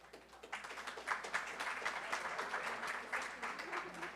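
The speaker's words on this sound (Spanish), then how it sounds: "Se ganó un aplauso." Applause from the audience at a Colombian congressional panel on labor reform, a moderately faint, uneven patter of clapping with distinct individual claps throughout, and a few voices mixed in.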